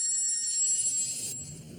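A cell phone rings with a steady high electronic tone, fairly faint and alone, with low rumble beneath and a slight change near the end.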